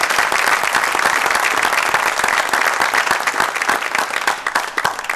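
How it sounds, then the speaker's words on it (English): A crowd gives a round of applause for four pitch groups at an incubator pitch night, loud dense clapping that swells at first and thins slightly toward the end, with no voices over it. "put it up in the air for a round of applause for all 4 groups tonight"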